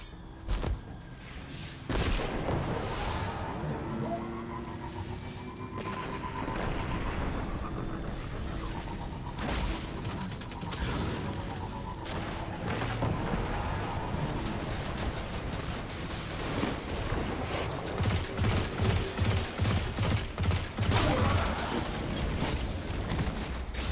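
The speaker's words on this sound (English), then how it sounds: "Some kind of anti-aircraft fire." Anti-aircraft fire at a fortified Legion base in Destiny 2 rumbles in the distance as a steady din of booming bursts and thuds, growing denser and louder toward the end, with no talking over it.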